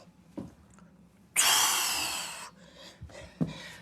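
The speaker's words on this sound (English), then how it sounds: "I know my breathing's obnoxious." Heavy breathing during a high-intensity metabolic workout, with a few short breaths and then one long, loud, forceful exhale lasting about a second, followed by quieter panting and a sharp inhale, close to the microphone.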